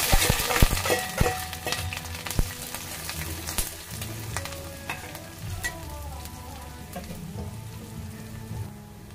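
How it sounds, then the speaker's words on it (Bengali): Two chilies and onions dropped into hot oil in a pan, setting off a loud crackling, popping sizzle at first that settles into a steadier frying hiss with occasional stirring clatter, close up, no speech. "তেলটা গরম হয়ে গেছে, দুটো মরিচ দিয়ে দিলাম, পেঁয়াজ মরিচটা দিয়ে দিই।"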